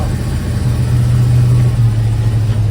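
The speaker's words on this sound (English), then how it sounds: "you can hear the exhaust" A 1957 Jeep FC-170 wrecker truck's exhaust rumbles loud and steady from close by, a deep idling drone with a slight rise in pitch midway.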